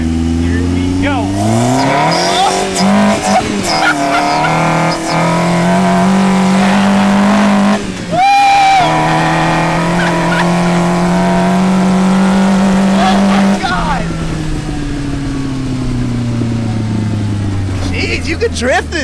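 A Nissan GT-R drifts on a dirt patch, its engine revving hard and continuously with rising and falling pitch and a sharp blip midway, loud and close, with people talking over it.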